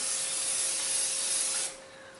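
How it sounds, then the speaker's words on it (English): A short burst of cooking spray onto a glass pan hisses for under two seconds, close and steady, then cuts off into quiet. "Spray the glass pan."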